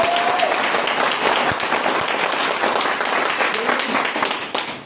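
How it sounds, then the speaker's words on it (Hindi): Loud audience applause fills a hall at a company presentation honoring the firm's directors, sustained dense clapping with a brief voice at the start, tapering slightly at the end. "एक बार जोरदार तालियां"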